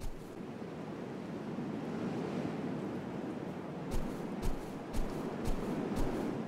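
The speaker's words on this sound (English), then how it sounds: "The ocean permeates these small islands." Ocean waves washing onto the shores of small islands in the open-world survival game Salt, a constant broad surf roar, with rhythmic thuds and clicks of movement near the end.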